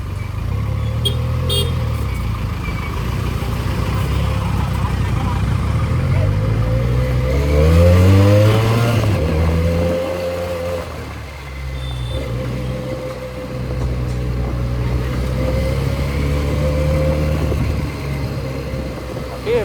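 A Benelli 300 motorcycle with a drained battery idles loudly and close by, then its engine is revved up and back down in a rising and falling sweep before settling to a steady running drone.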